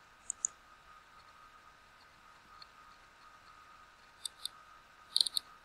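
Computer mouse clicks, sharp and isolated, a few single clicks early then a quick burst of several near the end, close and quiet in an otherwise hushed room.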